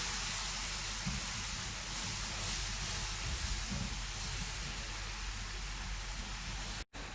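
Double cream boiling in a pan on the stove, a steady broadband bubbling hiss that holds constant and close for the whole stretch before cutting out abruptly near the end.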